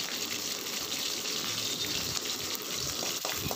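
Curry leaves, green chillies and grated ginger fry in hot oil, a loud, close, continuous sizzle and crackle with no talk over it.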